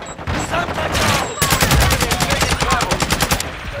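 Automatic gunfire in the video game Call of Duty: Modern Warfare II, a loud, rapid burst of evenly spaced shots over busy game sound, with a short earlier burst.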